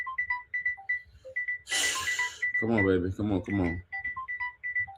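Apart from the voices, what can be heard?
alarm ringing on a mobile phone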